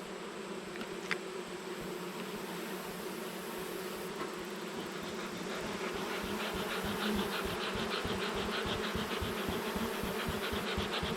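Dense, steady buzzing of many honey bees swarming around an open hive during a late-summer hive split, with a continuous droning hum close by and no voices.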